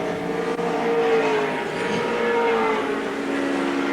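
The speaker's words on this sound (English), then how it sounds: "There's the race leader, Dick Johnson, down the straight" A 1984 Group C touring race car roars down the straight at Surfers Paradise International Raceway, a steady loud engine whine with shifting pitch over constant track noise.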